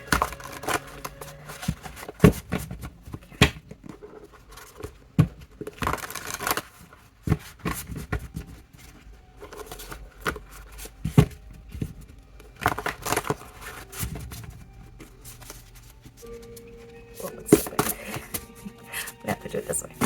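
Repeated riffling and slapping of a thick, large, unused tarot deck being shuffled, close up, in uneven bursts with occasional quiet talk.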